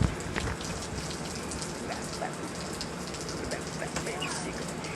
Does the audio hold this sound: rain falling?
yes